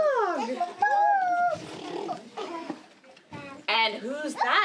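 A voice imitates a dog barking, giving a few playful woof sounds in a lively, sing-song delivery during a children's rhyme session, with speech around them.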